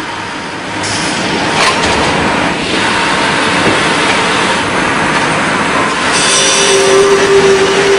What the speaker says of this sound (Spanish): Unos empujadores acercan los tableros a unas sierras circulares para escuadrar el